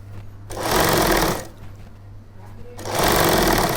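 A sewing machine stitches a shirt collar in two sustained loud runs with a short pause between them, a steady low hum underneath and no voices.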